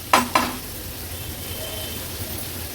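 Prawns and onions sizzling steadily in a pan over a low-to-medium flame for an Agri Koli fish thali, with two quick stirring scrapes at the start before a continuous close frying hiss.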